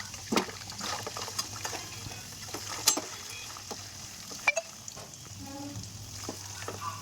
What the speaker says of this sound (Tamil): இப்போ நம்ம அந்த வேக வச்ச அந்த உருளைக்கிழங்கை நம்ம போட்டு நல்லா பொரிச்சிக்கலாம்